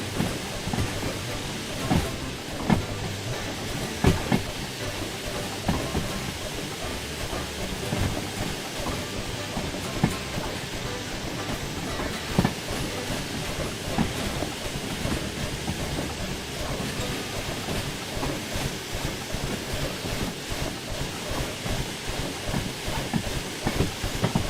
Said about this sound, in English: I am limping this train in.